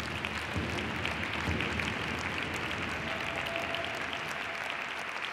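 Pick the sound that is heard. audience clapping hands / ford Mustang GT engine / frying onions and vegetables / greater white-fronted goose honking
audience clapping hands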